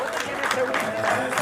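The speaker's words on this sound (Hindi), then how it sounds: "तालियां हो जाए निशा मैडम के लिए" Sustained applause from an audience at a Women's Day celebration, clapping in honour of Nisha madam; dense, even clapping throughout with a crowd murmur underneath.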